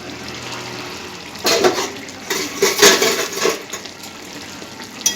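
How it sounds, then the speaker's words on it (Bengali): Metal clatter at a stove as a lid goes onto a cooking pot of rice, a few close knocks and scrapes in a short burst over steady background hiss. "এরপর ঢাকা দিয়ে দিচ্ছি একটু ফুটুক"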